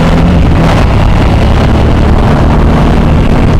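A Suzuki V-Strom 1000XT motorcycle on a test ride, its engine a steady low drone blended with strong wind rush, loud and continuous throughout.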